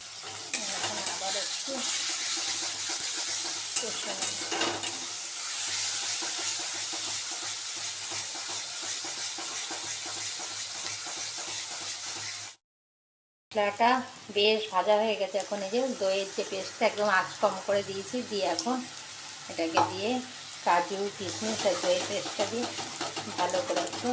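Masala for doi katla, a rohu fish curry in yogurt, is stir-fried on low heat with a soft, constant sizzling hiss and occasional stirring scrapes; a person talks over much of the second half after a brief gap.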